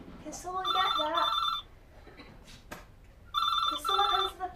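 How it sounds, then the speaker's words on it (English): A telephone rings in a home, two bursts of rapid trilling bell tones separated by a short pause, moderately near, with voices in the background. "Can someone answer the phone, please?"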